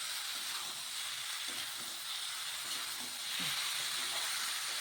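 Mixed vegetables cooked with coriander powder and chilli powder fry in a pan with a steady, fairly soft sizzle and hiss, a few faint stirring scrapes breaking through now and then.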